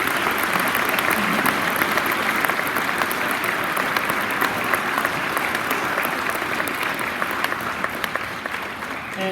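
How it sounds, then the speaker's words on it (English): Sustained audience applause at a Navy veterans' assembly, steady clapping from a large crowd filling the room for the full stretch without pause. "So if you guys could give them a round of applause."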